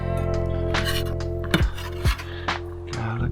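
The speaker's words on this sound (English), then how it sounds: "My garlic butter's taking me forever to mix" Garlic butter being mixed for mussels in a bowl, with repeated clinks and scrapes of a utensil against dishware alongside a steady hum, a few sharper knocks standing out near the end.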